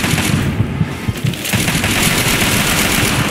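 Gunfire in a Fallout game mod, rapid overlapping shots and booming impacts in a loud, busy firefight that continues throughout.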